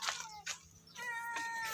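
A cat meows, a drawn-out nearby call with a second cry partway through, recorded at a chicken coop where hens' eggs are being checked.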